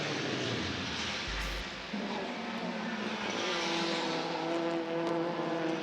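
TCR touring race cars, including a Hyundai and a Peugeot, roar around the Hungaroring circuit in a steady engine drone with rising gear pitches as cars pass, heard from a distance with no talk.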